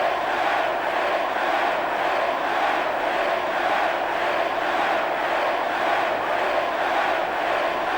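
Wrestling arena crowd in WWE Smackdown vs Raw 2006, a steady, dense roar of many voices that stays loud and even throughout, with no clear speech on top.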